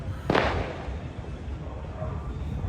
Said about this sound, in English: So there are some fireworks going up right now.